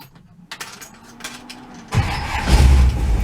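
A 1957 Chevy fires up from a cold start with a turn of the key: soft key and starter clicks, then the engine catches without cranking and settles into a loud, rumbling idle close to the microphone.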